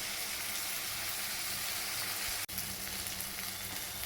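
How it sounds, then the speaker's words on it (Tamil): Tomatoes frying in a pan for sambar give a dense, continuous sizzle that holds steady and loud throughout, with one brief dropout partway through and no talking. "தக்காளி நல்லா வதங்கிடுச்சு"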